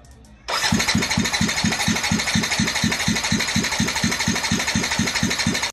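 A Yamaha NMAX scooter engine bursts in suddenly after a moment of quiet, then throbs in an even, rapid rhythm of pulses for several seconds before cutting off abruptly.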